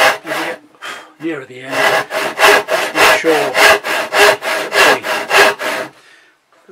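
A hand saw cuts through wood in about a dozen even back-and-forth strokes, close and loud, in a quick steady rhythm. A few rougher strokes start the cut, a short voice is heard near the end, and the sawing stops abruptly.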